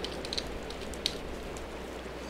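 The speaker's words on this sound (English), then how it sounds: "Now it's currently raining" Rain in the video game Minecraft with the Better Than Wolves mod, a soft continuous hiss of falling rain with a few faint patters, heard alone at low volume.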